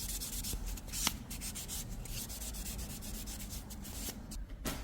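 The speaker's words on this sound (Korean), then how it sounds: "샌딩 한번 비벼볼게요." A sanding block rubbed back and forth over a fingernail during silk wrap nail work, a continuous close, dry, even scratching with a brief louder scrape near the start, no talking.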